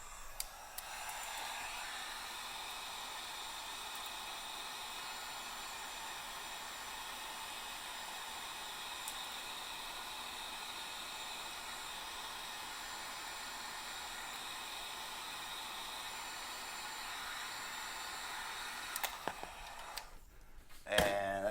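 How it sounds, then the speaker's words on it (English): A heat gun shrinks a heat-shrink cap over wire tips while the electronics of a 1988 Charvel Model 2 guitar are rebuilt, blowing with a steady, unbroken hiss for about twenty seconds before cutting off. "put this little shrink wrap cap on here just to cover the tips of the wires up. And then I'm going to hit that with a heat gun."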